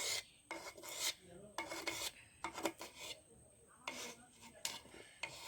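Cream skin layers of rabri being cut in a buttered kadai with a metal utensil, repeated rasping scrapes against the pan in short bursts, close and moderately loud.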